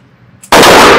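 A single loud, sharp 9mm shot from a Canik TP9 pistol at a shooting range, cracking abruptly after a brief quiet lead-in and ringing on to the end.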